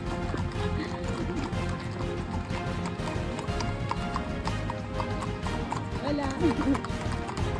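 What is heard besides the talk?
horses walking on the Camino de Santiago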